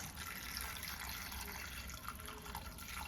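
Water runs steadily into a vessel, a soft continuous splashing and trickling, fairly quiet and close, with no talking.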